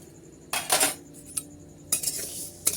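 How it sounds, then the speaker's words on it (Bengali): Moong dal is stirred in a metal kadai, with a few sharp scrapes and clinks of a spoon against the pan, close and separated by quiet pauses. "কড়াইয়ের মধ্যে আমি মুগের ডালটা দিয়ে দেবো তো মুগের ডালটা একটু ভাজা ভাজা করে নেবো"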